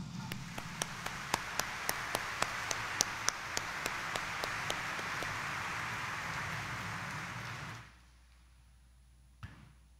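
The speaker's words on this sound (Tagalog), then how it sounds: "iparinig natin sa mahal na Senyor ang mas malakas nating palakpak" Steady applause from a church congregation during Mass at Quiapo Church, with sharp individual claps standing out, fairly distant, stopping abruptly near the end and leaving near silence.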